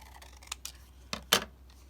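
Scissors cut straight through paper in a few short, crisp snips up close, the last one loudest, spaced apart over a quiet background.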